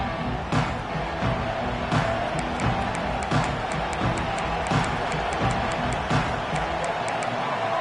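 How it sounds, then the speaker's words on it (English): Large crowd at an Auburn college football stadium roaring and cheering continuously, loud and sustained, with a play-by-play commentator talking over it. "This crowd ready to make its presence known."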